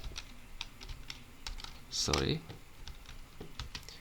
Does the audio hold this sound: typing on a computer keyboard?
yes